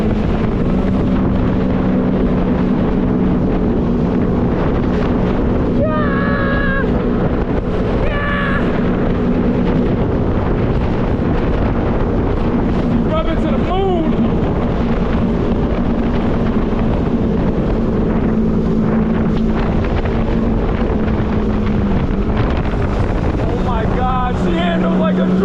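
Restored, repainted jetski riding over rolling waves, steady engine drone with wind buffeting the microphone and water slapping throughout, voices shouting and cheering briefly over it.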